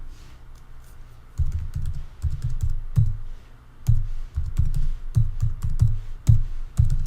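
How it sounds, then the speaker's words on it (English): Typing on a computer keyboard while entering device login details during setup of SmartRA software on a Mac or PC: close, steady bursts of key clicks with brief pauses, no talking. "type in your information"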